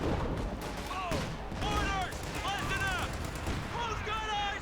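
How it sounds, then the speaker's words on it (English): Grenades exploding in Company of Heroes 2 during a 2v2 battle with US forces against OKW, several bursts amid a dense, continuous din of battle noise, sharp whistling tones and gunfire. "Grenades going off there."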